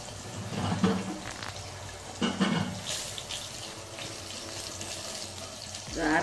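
Half a tumbler of water splashes and pours in a couple of short bursts into a pressure cooker close by, with clattering handling noise around them.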